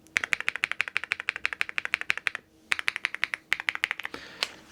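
Rapid, crisp keystrokes on a £50 mechanical keyboard, a steady run of loud clicky taps with a brief pause midway, then a few more scattered presses, close and alone.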